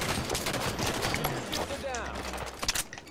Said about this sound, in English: battle rifle right there.